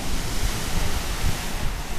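Ocean waves wash on a black sand beach beside a sea cave on Maui, a broad, rumbling roar of surf with buffeting wind noise, steady and loud for a couple of seconds.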